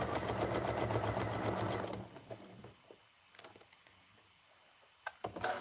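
A sewing machine stitches a quilt-as-you-go quilt, running in a fast, loud, steady whir for about two seconds, then stopping and leaving faint handling clicks and rustles.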